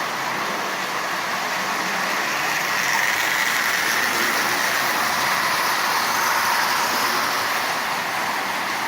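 A Marx Commodore Vanderbilt toy train with a transplanted 400 motor runs steadily, giving a continuous close whirring, rattling drone that holds even throughout with no voices.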